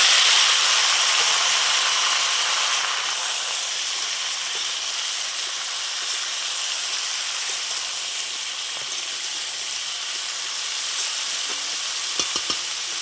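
Pumpkin and sweet potato fry in oil with dried chilli and bay leaf, giving a continuous bright sizzle that eases slightly over time, with a few small clicks near the end.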